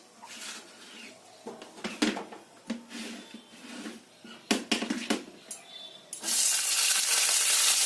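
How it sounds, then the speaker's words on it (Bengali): Vegetables and lentil dumplings (bori) frying in hot oil, with crackling bursts and sizzle that swell into a loud, steady hiss near the end. "আগে বড়িগুলো ভেজে তুলে নিচ্ছি আগে সবজিগুলো ভেজে তুলে নিচ্ছি"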